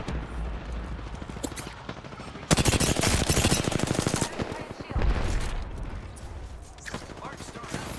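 Rapid automatic gunfire in the shooter game Apex Legends, loud and close, bursting into a dense rattling stream midway, with scattered shots and game effects around it and no talk.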